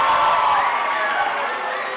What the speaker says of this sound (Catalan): Fort aplaudiment també per elles.